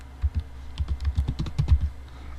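Keys clatter on a computer keyboard as a layer name is typed, a quick uneven run of close, crisp clicks and thuds lasting about two seconds with no talk over it.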